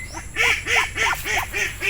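Loud, nasal honking quacks from ducks repeat in a quick, regular series of about six calls, close by.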